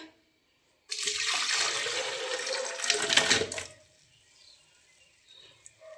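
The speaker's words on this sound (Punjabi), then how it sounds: "ਸਾਰਾ ਪਾਣੀ ਆਪਾਂ ਜੱਗ 'ਚ ਪਾ ਲਿਆ ਜੀ" Liquid gushes into a jug for about three seconds, swelling louder near the end before stopping abruptly, followed by quiet faint drips.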